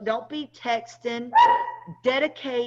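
A dog barks in the background while someone talks steadily in the foreground, its brief yips partly buried under his voice.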